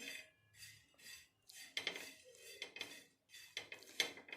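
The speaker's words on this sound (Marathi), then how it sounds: "इथे छानपैकी मी आता मंद आचेवर भाजून घेत आहे" Poha is dry-roasted in a pan over a low flame and stirred with a utensil, giving repeated soft scraping and clinking strokes in an uneven rhythm. The sound is close but quiet, with no speech.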